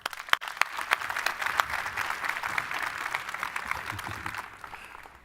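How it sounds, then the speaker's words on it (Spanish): A conference audience applauds in sustained, dense clapping to welcome a speaker on stage, loud and steady throughout with a brief sharp peak near the start, then slowly thinning at the very end. "Por favor, recibamos a Bruce con un gran aplauso."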